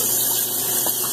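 Water pours and gushes steadily as a salsa bowl used as a shaving bowl is rinsed and refilled, a loud, close, continuous rush with no talking.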